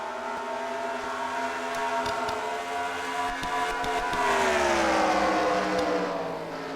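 Race cars of the CWRL Rumble series thunder around a dirt track together, a steady loud roar of several engines swelling as the pack pushes through turns one and two.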